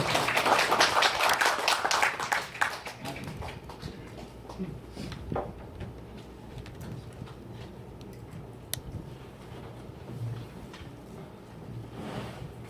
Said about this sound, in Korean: 우리 뜨거운 박수로 모시겠습니다